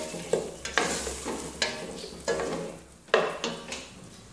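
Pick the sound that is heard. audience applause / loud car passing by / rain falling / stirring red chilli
stirring red chilli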